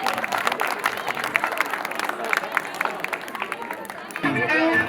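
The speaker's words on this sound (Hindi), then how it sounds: "अब देखिए एक बार जोरदार तालियां इन बच्चों के लिए तो बनता है ना" An audience at a Patna Holi Milan gathering claps for children, producing a lively crackle of applause mixed with crowd noise before a sudden swell of sound at the end.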